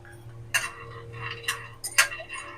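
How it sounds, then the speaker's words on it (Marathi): Peanuts roast in a hot kadai, stirred with a spoon that makes several sharp metallic scrapes and clinks at irregular intervals over a quiet background. "आपण ह्याच्यामध्ये शेंगदाणे भाजून घेऊया."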